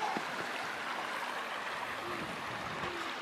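Steady broadband rush of a river flowing through the Cornish harbour village of Boscastle, continuous and fairly close, with faint voices now and then beneath the water.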